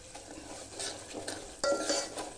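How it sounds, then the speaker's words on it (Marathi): Semolina roasting in ghee in a pan for kheer is stirred with a spoon, giving soft scraping strokes, light clinks against the metal and a faint sizzle, close by and without talk. "रवा छान तुपामध्ये छान परतून घ्यायचा"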